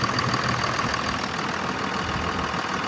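Dodge Ram 2500 long-bed 4x4 with a 6-speed manual, 54k miles, idling up close as a steady, even mechanical rumble with a faint ticking clatter, continuous and without speech.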